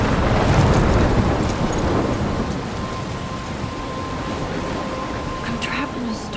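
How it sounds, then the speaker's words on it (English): Heavy rain pours steadily in a video game thunderstorm, with a loud rolling thunder rumble at the start that fades into constant rainfall and wind. "I'm trapped in a storm?"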